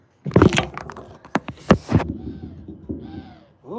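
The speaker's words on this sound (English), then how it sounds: "Ooh, hear that bird?" Outdoors in Westcliffe, Colorado, a crow-like bird gives several loud, harsh caws in quick succession up close, followed by quieter trailing calls.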